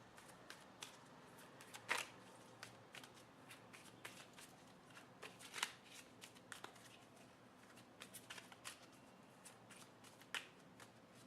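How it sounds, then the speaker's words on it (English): Tarot cards are shuffled and drawn close by, a soft rustle broken by scattered crisp snaps and flicks, quiet overall with no talking. "Alright, let me draw the connecting card."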